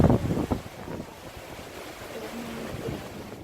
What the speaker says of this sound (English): it's getting windy now, huh?